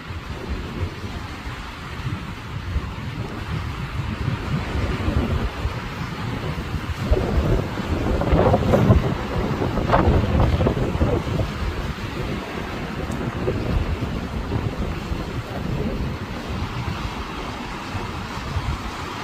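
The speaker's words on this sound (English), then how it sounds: "It's a little stronger, but it typically is very windy in October." Strong October wind on Sand Point Trail roars and buffets the microphone steadily throughout, swelling into louder gusts midway, with no voices.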